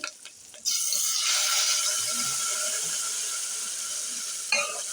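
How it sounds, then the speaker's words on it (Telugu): A hot tempering is poured into tomato and drumstick rasam, setting off a sudden loud sizzle that bursts in after a brief quiet start and keeps up a steady hiss to the end. "స్టవ్ బంద్ చేసుకొని ఇప్పుడు మనం ఇలా పోపు పోసుకున్నాం."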